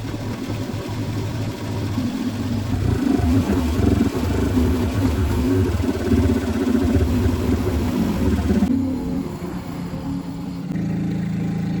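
A cherry picker machine rises for a gutter check, its engine droning steadily and loudly for about nine seconds before the tone drops to a lower, quieter hum near the end.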